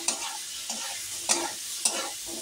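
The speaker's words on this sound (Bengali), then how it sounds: "এবার আলু দিয়ে উচ্ছে দিয়ে সব কিছু দিয়ে আমি আরেকটু ভালো করে ভেজে নেব" Potatoes and bitter gourd fry in a pan with turmeric, a soft sizzle broken by four quick stirring scrapes at a steady pace, close and fairly quiet, with no talk.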